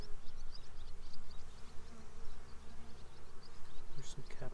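Honey bees in an opened backyard hive during a colony inspection give a steady, close droning buzz throughout, with a brief brighter burst near the end.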